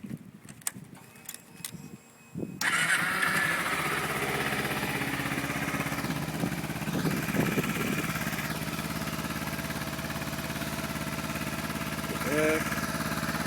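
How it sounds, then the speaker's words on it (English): A stock-exhaust 2011 Kawasaki Ninja 250R motorcycle cranks and fires up after a few quiet clicks and jangles, then settles into a steady, even idle with a brief blip of revs near the end. "here's my 2011 Ninja 250R with the stock exhaust"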